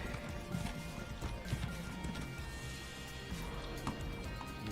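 Horse hooves clip-clopping in the Elder Scrolls Online video game, a steady rapid trot of hoofbeats mixed with game ambience and music, moderately loud throughout.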